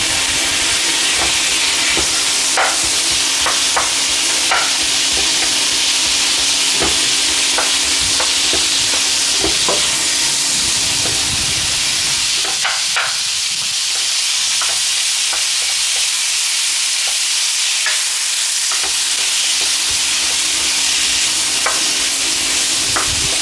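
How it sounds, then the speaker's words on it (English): Onions frying in a pan for a Cantonese lamb curry, a loud continuous sizzle close up with repeated scraping and clacking from stirring, no voices over it. "next we're going to dump in our onions"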